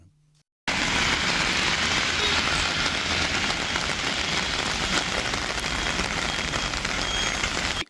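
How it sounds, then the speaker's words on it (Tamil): Heavy rain pours down with strong wind in Srivilliputhur, a dense, steady roar that bursts in after a brief quiet moment and holds loud and unbroken to the end. "ஸ்ரீவில்லிபுத்தூரில் சுமார் 1 மணி நேரம் பலத்த காற்றுடன் கனமழை கொட்டி தீர்த்தது"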